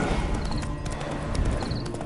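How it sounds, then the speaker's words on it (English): A horse in The Witcher video game trots with a rapid, steady clip-clop of hooves, moderately loud and continuous, set against a busy game soundscape. "Bloody fine mount."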